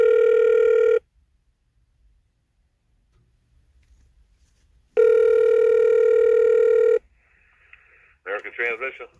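Long steady telephone ringback tones sound twice with a silent gap between them, before a person answers and starts talking at the end.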